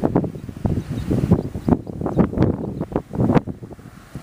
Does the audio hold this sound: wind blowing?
yes